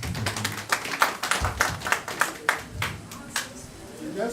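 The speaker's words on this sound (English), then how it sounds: "A round of applause." Scattered, uneven clapping from the audience at a school's 40th anniversary alumni celebration, a few sharp claps standing out over a low murmur and background voices.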